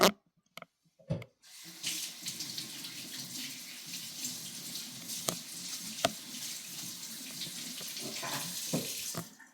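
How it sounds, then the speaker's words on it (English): Running tap water pours steadily into a sink while a hand is rinsed under it, a close continuous splashing wash after a few brief knocks at the start, with no voices. "I will rinse off my hand."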